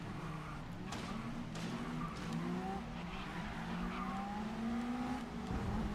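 Electric race car with a 7-speed transmission in GRID Legends, a faint whining drive tone rising through the gears in steps, with light tire noise underneath.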